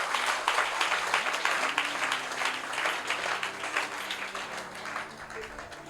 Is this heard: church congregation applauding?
yes